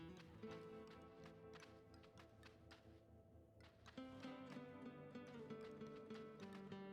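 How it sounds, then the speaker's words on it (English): Footsteps crunch and clack across piles of bones in the video game Sable, a steady rhythm of close, crisp taps running under layered game music. "The sounds of my feet on the bones."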